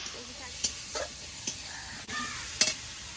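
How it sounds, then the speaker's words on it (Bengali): Prawns fry briefly in a pan for a home-style Bengali meal, a soft, low sizzle with a few sharp spatula clicks and scrapes close by. "চিংড়ি মাছটা এক মিনিট মতো ভেজে নেবো"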